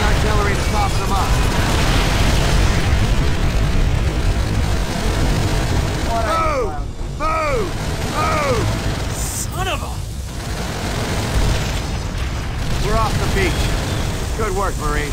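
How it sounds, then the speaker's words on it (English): Artillery shells whistle in and burst in Call of Duty: World at War during a beach assault on Betio, with repeated descending whines and booms spread across the scene under ongoing voices and battlefield noise. "We got incoming artillery to stop them up."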